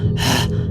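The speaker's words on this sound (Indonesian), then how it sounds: "Terus ada suara orang kayak nafas gitu dekat telinga abang." One sharp, heavy breath drawn in close to the microphone, breathy and brief, like a gasp right by the ear.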